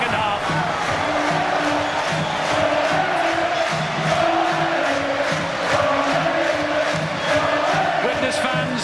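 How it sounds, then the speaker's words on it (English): A rugby league playoff crowd of Warrington fans claps, cheers and chants in a packed stadium after a score, a loud, sustained roar with rhythmic clapping and some voices standing out. "Warrington fans, hands above their heads, clapping, cheering and dancing, because Warrington are back in it in a vengeance"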